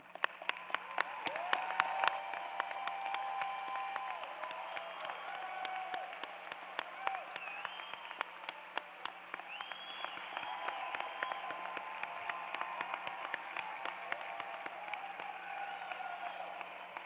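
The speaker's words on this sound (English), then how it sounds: "Honor students, please stand so that we can applaud your accomplishments." An audience applauds nursing honor students standing at a College of Nursing commencement ceremony, steady scattered clapping from a large hall sustained for about seventeen seconds at moderate distance, with some crowd murmur underneath.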